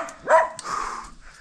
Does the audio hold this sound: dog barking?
yes